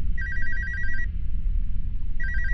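In the horror video game Alone, a telephone rings with an electronic trilling ring that repeats in two bursts separated by a pause, loud and close over a low rumbling ambient drone.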